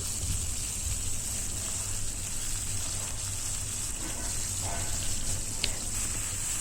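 Garlic, carrot, capsicum and yardlong beans frying in a pan for Chinese-style beef chilli give off a steady, even sizzle with a constant hiss throughout, close and continuous, with no talking.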